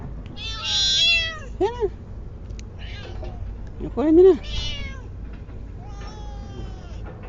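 A cat meows several times up close on a fishing boat, short clear cries between people talking.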